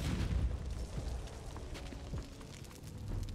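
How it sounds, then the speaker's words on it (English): A grenade detonates in the video game Conan Exiles, a deep muffled boom with a rumbling tail that fades under continuing low in-game noise. "Alright, so I'm gonna throw the grenade right here."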